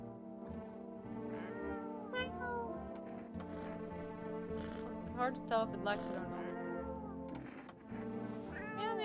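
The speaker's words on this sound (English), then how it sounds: "I'll pet the cat." A cat meows repeatedly while being petted in the video game No I'm Not a Human, with several short mews over a steady music bed as someone talks throughout.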